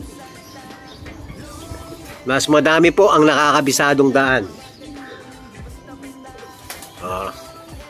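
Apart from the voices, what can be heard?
racing pigeons cooing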